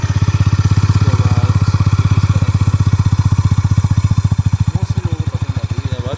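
A Honda CB350RS motorcycle idles loudly and close by, its exhaust thumping in a steady, even pulse throughout.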